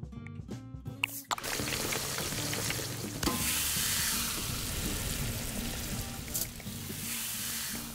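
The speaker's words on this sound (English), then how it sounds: "I just got the chicken wings now. Yes, 10 of them. Start." Chicken wings fry in a restaurant management video game, a sustained hiss and sizzle after a few short clicks, steady and moderately loud throughout.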